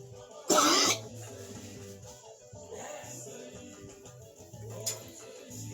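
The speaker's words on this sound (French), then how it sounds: "j'ai toussé trop fort là parce que j'avais mangé les noix de coco" A woman coughs once, hard and loud, after eating dry coconut, then a softer throat-clearing follows over a faint ticking background.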